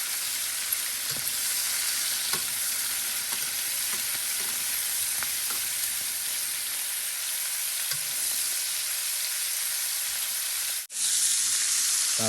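Food stir-fried in a pan, a dense, even sizzle like steady rain that runs unbroken, with a few faint taps of the utensil, briefly cutting out near the end before resuming louder, close, with no speech.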